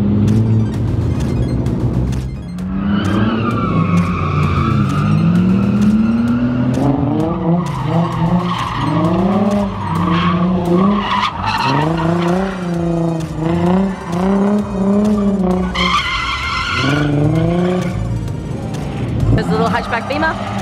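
Cars drifting in a night session, including a small BMW hatchback, with loud, continuous tire squeal rising and falling in long sweeping screeches over revving engines, while a crowd and commentary voices talk throughout.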